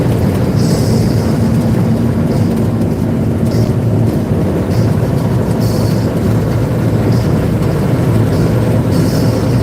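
An empty truck driving eastbound, heard from inside as a loud, steady low engine and road drone with faint, intermittent higher hiss.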